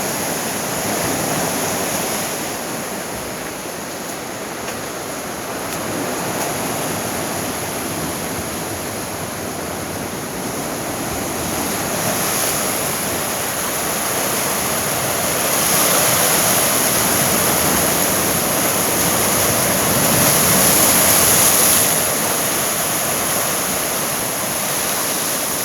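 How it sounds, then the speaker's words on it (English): A small waterfall spills over slippery rocks, making a steady, full rushing and splashing roar that holds close and loud throughout, swelling slightly near the end, with no talking. "Oh, little waterfall, check it out."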